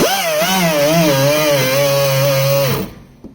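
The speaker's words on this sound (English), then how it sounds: "Some of the shallower spots can be removed with a wire grinder, which we're gonna do now." A power tool fitted with a wire wheel whirs loudly and steadily against metal to strip rust, its pitch wavering under load before it cuts off abruptly and winds down.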